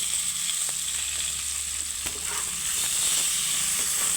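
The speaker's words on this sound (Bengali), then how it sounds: "তো একটু হালকা ভেজে নেব আমটাকে" Raw mango with salt and turmeric frying lightly in a pan, giving a steady close sizzle with faint stirring scrapes and no talk.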